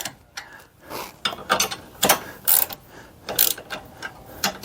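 A ratchet snugging down bolts while fitting a Baker luggage rack on a Polaris Slingshot, close, uneven bursts of clicking and metallic rattling with brief pauses between strokes.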